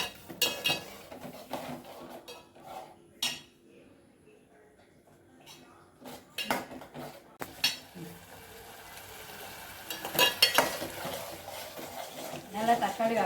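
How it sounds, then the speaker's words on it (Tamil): Tomatoes sautéing in oil for a spicy okra curry, with scattered utensil scrapes and clinks against the pan and a faint sizzle, intermittent and close, growing busier toward the end. "நல்லா தக்காளி வதங்கிடுச்சுங்க."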